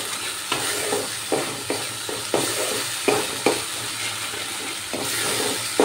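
Paneer curry sautéing in a pan for a shahi paneer, a steady broadband sizzle broken by repeated scraping stirs of a spoon roughly every half second, close and fairly loud with no talking.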